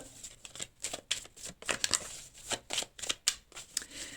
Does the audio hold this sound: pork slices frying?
no